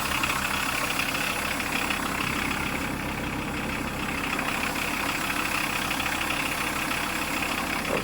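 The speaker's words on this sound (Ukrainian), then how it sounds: "то це робота дізеля така." A small diesel tractor idles steadily in the snow, a continuous low chugging rumble with an even knocking rhythm throughout, close and fairly loud with no talking.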